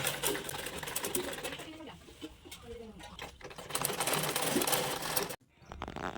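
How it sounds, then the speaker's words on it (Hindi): Sewing machine stitching clothes at home, a steady close mechanical whirring and rattling that runs nearly throughout before cutting off briefly near the end, with faint background sounds. "पापा कपड़ा सिलाई कर रहे हैं जो मेरा ही है"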